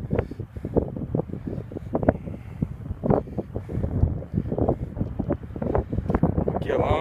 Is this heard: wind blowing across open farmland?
yes